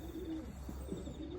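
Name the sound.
racing pigeon cooing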